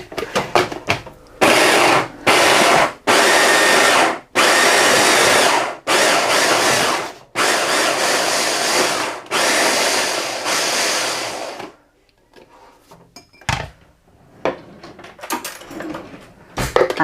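A food processor grinds chopped onions into lamb seekh kebab mixture in loud, close pulses, several bursts of a few seconds each separated by short pauses, then a long run before it stops and gives way to quieter handling knocks.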